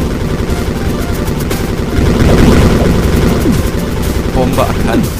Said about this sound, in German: Hier ist noch eine große Explosion.